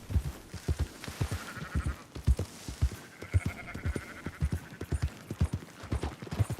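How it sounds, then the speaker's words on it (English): Sheep bleat in a short series of high calls over the steady clip-clop of horse hooves as a flock is herded on horseback in a video game, the hoofbeats rhythmic and close throughout with no talk. "Marston, why don't you leave the sheep to me?"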